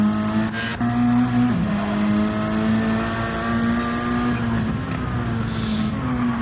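Race cars run side by side in a CTC 2025 Group A sim racing event, with steady loud engine drones droning in parallel. The engines shift pitch as the cars work through gears, and occasional tire squeals cut in.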